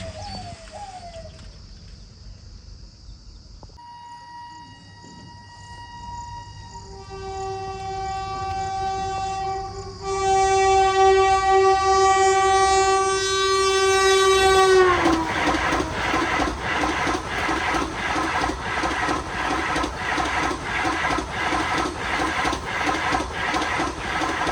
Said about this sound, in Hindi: थोड़ी देर में ये गाड़ी 130 या 140 स्पीड से रेल गेट से गुजरेगी, धूल उड़ाते हुए।